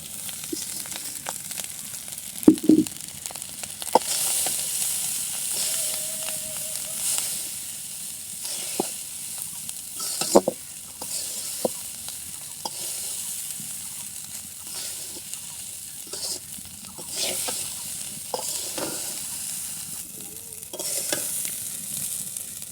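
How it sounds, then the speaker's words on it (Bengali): Cooked rice stir-fried in a wok, a continuous soft sizzle broken by scraping and clinking of a spatula tossing the rice, with no talk. "এই তো ভাতগুলো এখন কড়াইয়ের ভিতরে ঢেলে দেওয়া হলো। এগুলো এখন মানে উলট পালট করে একসাথে মিক্স করবে।"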